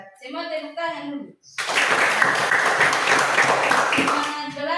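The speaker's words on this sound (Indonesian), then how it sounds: "Semua tepuk tangan dulu." A classroom of children claps hands together in a loud, dense burst of applause lasting several seconds, preceded and followed by a teacher speaking.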